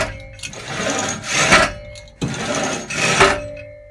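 A drop hammer rises and falls twice, each strike muffled by a rag yet still fairly loud, with a mechanical whir as the weight lifts before each thud.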